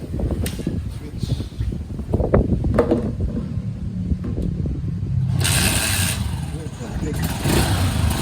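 Honda TMX 125 Alpha 2016 motorcycle engine starting after an oil change, the engine catching and settling into a steady idle close by, with someone talking during the start.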